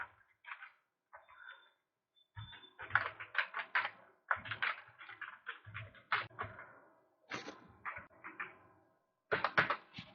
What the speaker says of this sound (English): And I will just type the password here.